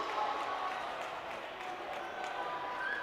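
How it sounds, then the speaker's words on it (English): A Red Knights home crowd cheers and claps at a high school volleyball match, a steady wash of distant applause and crowd noise with faint whistles and shouts rising over it. "what great enthusiasm and support here by the Red Knights home crowd"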